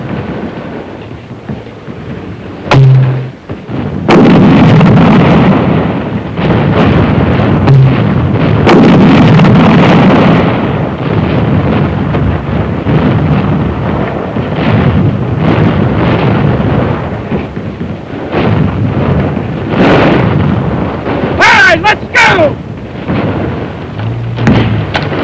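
Artillery firing smoke rounds in an urban attack, heard as loud, sustained rumbling booms and rolling blasts with a deep, continuous roar between the impacts.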